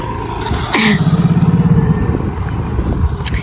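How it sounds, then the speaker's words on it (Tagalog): A motorcycle engine being tested, revving up once into a rough throbbing roar before settling back to a low idle, heard close up alongside other noise. "Dapat pala ganun na tinetesting yung motor."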